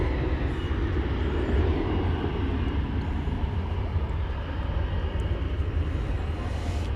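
An American Airlines airliner at Dallas/Fort Worth Airport in the evening, a continuous, moderately faint, distant jet engine rumble with heavy low-frequency roar, no voices heard.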